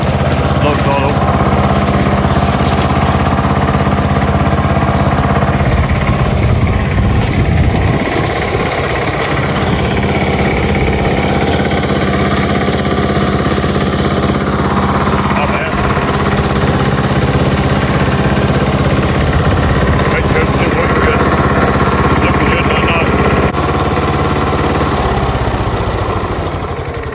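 A Craftsman leaf vacuum's small engine runs steadily at slow throttle, a loud continuous drone with a low rumble that holds for the whole stretch, slight roughness and a brief dip near the middle, with a voice faintly under it.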